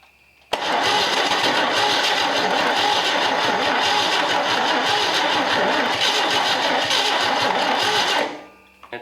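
A Chevy 250 straight-six engine cranks continuously and sputters as it tries to catch, a loud, steady, close churning that runs for about eight seconds before cutting off, with no talking over it.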